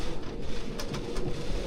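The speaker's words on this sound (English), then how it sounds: "we can't have the hatch open right now because it's fucking insane rain and winds outside" Heavy rain and strong wind outside a sailboat with its hatch closed, a dense, muffled rushing roar with a few brief sharper patters of water, continuous and without voices.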